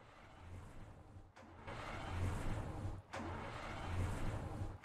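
A powerful car engine in The Long Drive runs at a steady mid-pitched drone, briefly cutting out twice before surging back, close and fairly loud with no talking.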